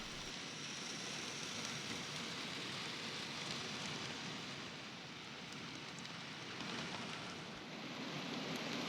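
Steady rain patters continuously on a narrowboat with an even hiss, a little wind noise underneath, and no voices.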